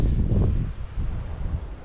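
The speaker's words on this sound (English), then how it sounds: "Look at how windy it is up here today" Gusty wind buffets the microphone atop a hilltop vineyard, a low, rumbling whoosh that swells and eases in short bursts with no other sounds.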